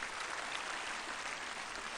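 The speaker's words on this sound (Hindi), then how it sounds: "एक बार इनके लिए जोरदार तालियां बजा दीजिए" An audience applauds students at a school event at Acharyakulam in Haridwar, giving a steady, dense wash of many hands clapping, heard at a distance and moderately faint, with no talking over it.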